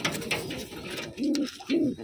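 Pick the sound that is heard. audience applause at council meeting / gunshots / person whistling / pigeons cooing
pigeons cooing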